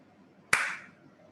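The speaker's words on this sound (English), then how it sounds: "When we gave the clap, it turned on." One sharp, close hand clap in a quiet room, with a short fading tail.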